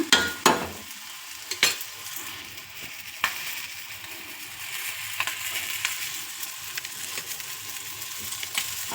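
An egg fries in a pan with a soft, steady sizzle, broken by sharp scraping and tapping as it is stirred or turned, louder clatters at the start and lighter ones throughout.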